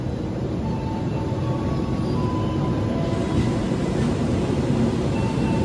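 Argo Semeru passenger train with executive coaches passing close by, a steady loud rolling rumble of wheels on rail that holds throughout with no voices.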